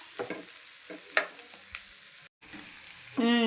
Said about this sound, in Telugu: ఇప్పుడు ఫ్రెష్గా మా చిన్నమ్మ వాళ్ళ చెట్టుకి చింత చిగురు ఉంది కోసుకొచ్చి ఫ్రై చేసేసాను